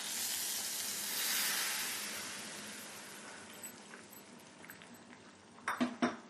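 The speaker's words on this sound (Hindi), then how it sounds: "अभी इसमें हम ये जो हमने तड़का बनाया है उसको डाल देंगे।" Hot tadka tempering poured into a potato and pea curry, giving a loud hissing sizzle that swells and then slowly dies away, followed by a few sharp clinks of a utensil against the pan.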